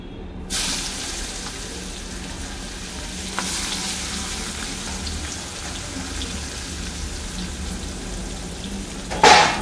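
Chopped onions hiss and sizzle steadily in hot oil left over from frying fish, a close continuous frying sound with a brief clatter near the end and no talking.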